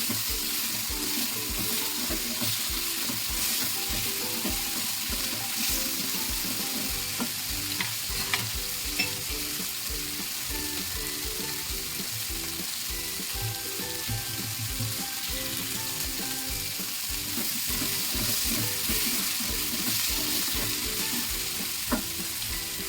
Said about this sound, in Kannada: ನಾವು ಹಸಿಮೆಣಸಿನ್ಕಾಯಿ ಹಾಕೋಬೇಕು, ಅದು ಹುರಿಬೇಕು. ಹಂಗೆ ಬೆಳ್ಳುಳ್ಳಿ ಏನು ತೊಗೊಂಡಿವಲ್ಲ ಬೆಳ್ಳುಳ್ಳಿನೂ ಹಾಕಬೇಕು